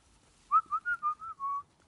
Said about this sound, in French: Quand il siffle comme ça.